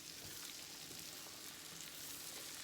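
Onions frying in bacon grease in a pan for a smoked meatloaf, a steady dense sizzle and crackle heard close up and without a break, with no talking.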